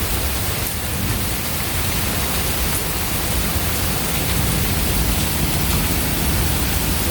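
Steady, dense hiss of hail and heavy rain falling during an Oklahoma tornado storm, loud and unbroken from start to finish, with no voices.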